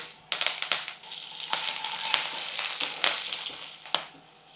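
Urad dal, chana dal, cumin, mustard seeds and garlic fry in hot oil for a beetroot fry tempering, giving close, sharp crackles and pops over a steady sizzle.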